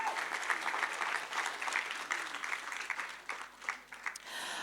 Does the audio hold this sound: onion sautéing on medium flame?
no